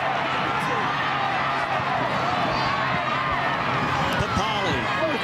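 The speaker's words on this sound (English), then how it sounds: "the Canberra crowd making some noise" Home crowd noise at a Canberra Raiders versus Brisbane Broncos rugby league match, a steady loud roar filling the stadium throughout, with bursts of cheering and some voices mixed in.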